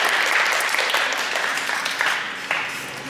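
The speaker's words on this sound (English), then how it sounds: "Give him a round of applause." A school audience at a post-prom show breaks into a dense wash of applause that swells and then slowly thins over a few seconds.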